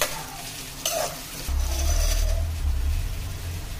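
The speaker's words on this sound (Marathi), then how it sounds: "कांदा, त्याला लाल होईपर्यंत परतळून घेऊया।" Onion frying in a pan for chicken curry, a soft sizzle with scraping stirring strokes and a light clink of a utensil against the pan, close and moderate in level with no talking.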